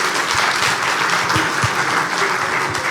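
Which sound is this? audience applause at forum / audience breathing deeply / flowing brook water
audience applause at forum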